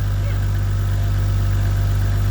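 A single-turbo VVTi engine idles in a mostly stock JDM wagon with an aftermarket air filter. It gives a close, steady, low idle hum that stays even throughout.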